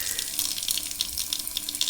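Tap water runs steadily through a Philips tap water filter into a sink, a continuous close hissing splash with no talk over it.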